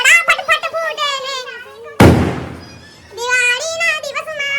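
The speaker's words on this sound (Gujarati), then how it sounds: "ફટાકડા ફટફટ ફૂટે ને." A single sharp Diwali firecracker bang bursts out and rings off briefly, with someone talking just before and after.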